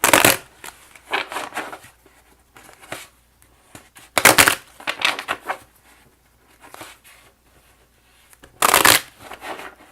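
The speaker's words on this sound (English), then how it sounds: "I'm going to just go ahead and shuffle the cards" Tarot cards being shuffled by hand, with three loud riffling bursts separated by softer rustling and tapping of the deck, close up with no talking.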